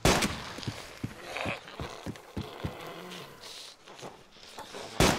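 Gunfire in the zombie-survival game ArmA 2 DayZ: a series of sharp, fairly faint shots at a steady rhythm, followed by a loud close blast at the end, with no talk over it.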